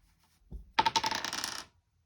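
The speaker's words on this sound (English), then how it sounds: "And we're gonna roll the dice again and see how many we get." Dice are rolled onto a hard surface, giving one soft thump and then a quick burst of rattling clicks and bounces that settles within about a second, close by and alone.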